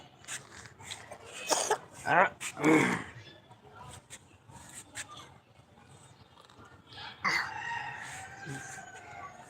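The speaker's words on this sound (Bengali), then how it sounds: "কাশি কেন দাও তুমি কাশি কেন দিচ্ছ" A child coughs a few times on a rooftop in the afternoon, short harsh bursts mixed with an adult talking and distant rooster crowing in the background.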